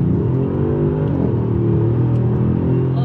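An Audi S6 engine with a Unitronic Stage 1+ tune revs steadily up close, a deep rising rumble that holds loud throughout.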